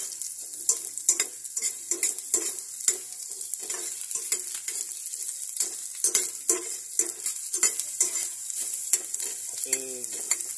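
Onions sauté in a pan for adobong siomai with a bright, steady sizzle. A utensil stirs and scrapes in repeated strokes, and cutlery clinks near the end.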